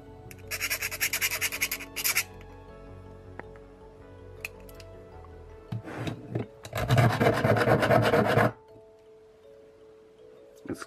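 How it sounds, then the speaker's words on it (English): Parkside file or rasp scraped across a wooden surface in rough bursts, first a short raspy stroke and then a longer loud grinding run, with quiet handling gaps between. "Scratching the surface."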